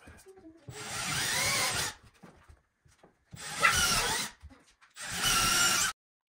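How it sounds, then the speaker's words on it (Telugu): A power drill bores holes into a wall while a TV wall mount is fitted, in three separate bursts of about a second each with short quiet gaps and faint voices between them. "డ్రిల్లర్ సహాయంతో హోల్స్ కొట్టాడనమాట."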